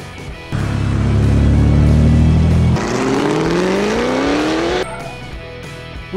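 A race car revs loudly at close range with a strong engine drone. The pitch then sweeps upward as it accelerates, and a brief burst comes at the very end.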